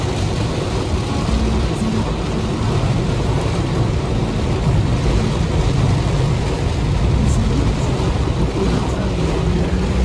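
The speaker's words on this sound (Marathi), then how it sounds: "एक नंबर पाऊस चालू झाला भाई साहब, मजबूत पाऊस" Heavy monsoon rain roars in a constant, loud, broadband wash with deep low rumbling underneath, steady for ten seconds and with no talking over it.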